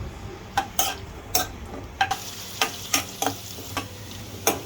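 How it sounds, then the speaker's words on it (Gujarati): Chopped onions fry in a pan for vada pav, a low sizzle broken by a series of sharp stirring clacks of a spoon against the pan, roughly a dozen irregular hits, close and moderately loud. "આ કાંદા હવે આપણા લાલ જેવા થોડાક શેકાઈ ગયા છે"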